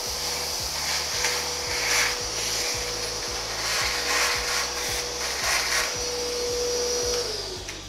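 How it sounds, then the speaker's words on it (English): A vacuum cleaner empties the hopper of a PET bottle recycling machine, a steady whining suction roar with a high tone, overlaid by a regular rhythmic mechanical knocking throughout, fairly loud and close with no talk. "I'm gonna use a vacuum cleaner."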